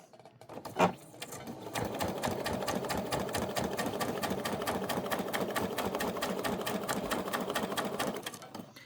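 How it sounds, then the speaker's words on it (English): A sewing machine stitching through paper on a scrapbook layout with floral paper runs steadily up close for several seconds after a brief start, a fast even mechanical chatter that stops at the end. "And then I am just going to start sewing."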